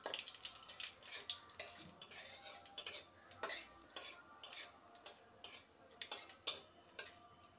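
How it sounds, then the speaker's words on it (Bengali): Black cumin seeds and a whole dried red chilli fry in mustard oil, with a steady sizzle broken by repeated metallic clinks of a spoon against the pan, close and moderately loud. "ফোড়নটাকে কয়েক সেকেন্ড ভেজে নেব"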